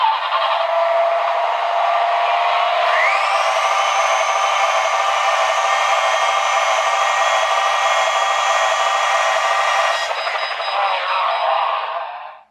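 Small drone motors spin up on a test bench after repair, giving a loud, steady high-pitched whine that climbs in pitch, holds with faint rattling, then winds down.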